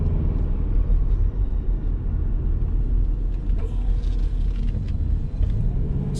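A 2011 Subaru Legacy Limited AWD being driven, heard from inside the cabin as a steady low road and engine rumble with a faint rattle partway through.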